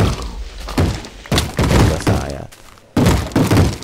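Explosions in the Minecraft Tekkit Classic video game, heard as several heavy, dull booming thuds in uneven succession. Each one is loud and broadband, with a murky rumble between them.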